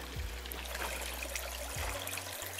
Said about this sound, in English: This is our brook.